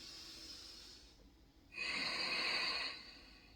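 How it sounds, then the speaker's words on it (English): Ujjayi breathing through the nose with the back of the throat gently constricted, giving a soft oceanic hiss. One steady breathy exhale swells for about a second, then fades, with no talk. "you're trying to fog up a mirror by constricting the back of the throat just a little bit. Take a few breaths like this."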